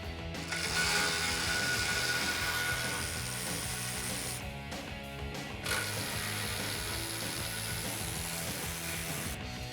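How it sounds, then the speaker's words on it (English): A ratchet with a 13mm socket backs out exhaust hanger bolts on a 2018-2019 Mustang GT during a cat-back exhaust install: long runs of fast, loud clicking up close, broken by two brief pauses, with no talking. "using our 13mm, we're gonna go ahead and take out these 2 bolts here to disconnect our hangers"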